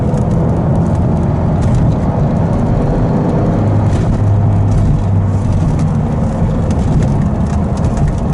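A Lotus Esprit V8 twin-turbo, a 3.5-litre all-aluminium four-cam engine, pulls hard under acceleration from inside the car, a loud steady drone with a rising tone in the middle over constant road and wind noise.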